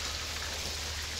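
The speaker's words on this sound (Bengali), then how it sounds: "এখন রোজই বৃষ্টি পড়ছে" Steady rain falling outdoors at a cremation ground, a dense, even hiss with no clear individual drops, continuous and fairly close.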